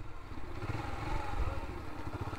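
A motorcycle with tyres already patched from punctures rides up a hill road near a hill station outside Rawalpindi, its engine a low, continuous rumble heard at a moderate distance.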